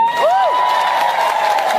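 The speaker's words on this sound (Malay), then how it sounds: "Tepuk tangan untuk binaan." An audience at a lively religious talk by Kh Kholil Yasin bursts into loud, continuous cheering and clapping, topped by a high rising whistle or whoop at the start.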